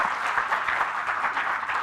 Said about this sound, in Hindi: जोर से तालियां हो जाए।